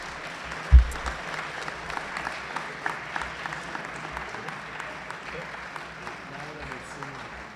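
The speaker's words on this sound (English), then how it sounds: "another big round of applause for him" An audience at a fall sports awards event applauds steadily for several seconds, a dense, moderately distant clatter of many hands with a sharp thump near the start.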